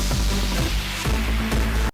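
Dense, loud electronic dance music from a beginner's first track made in FL Studio, with a pounding low kick, a bright wash of synths and a thin repeating melodic line, playing without pause.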